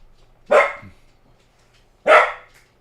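A dog barks twice, loud and close, the two sharp barks about a second and a half apart with quiet between them.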